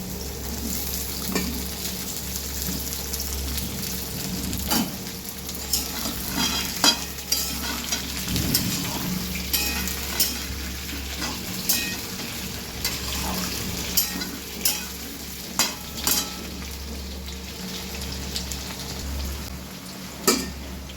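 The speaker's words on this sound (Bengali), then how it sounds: "পটলটা একটু ভাজা ভাজা হয়ে এলে আমি আলুটা এর মধ্যে অ্যাড করব।" Pointed gourd and potato fry in a pan with a steady close sizzle, while a utensil stirs and scrapes in regular knocks throughout and no one speaks.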